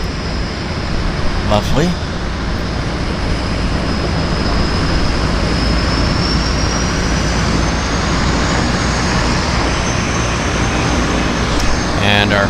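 A de Havilland Beaver floatplane manoeuvres toward a dock in Vancouver Harbour, its engine a loud, steady drone that rises slightly in pitch. A person speaks briefly over it.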